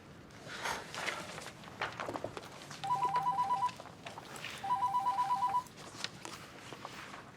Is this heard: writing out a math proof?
no